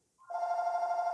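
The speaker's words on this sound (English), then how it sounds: "Please excuse that phone in the background. It's my house phone." A house phone rings steadily in the background of a home kitchen. One electronic ring tone starts abruptly and holds at an even level.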